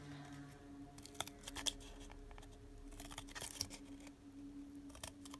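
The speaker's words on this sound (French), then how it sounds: "on va couper avec les ciseaux sur environ 1 cm" Scissors snipping short notches into the edge of a cardboard circle, a few quiet crisp cuts scattered unevenly over a low steady background hum.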